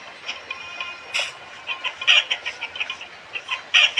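Chickens in a cartoon-style video game cluck in short, repeated bursts, with a few louder squawks rising above a steady background hum.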